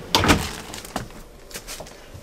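Drawers in a 2023 Forest River Flagstaff Classic 528IKRL travel trailer slide and thump in a few short bursts, close and moderately loud.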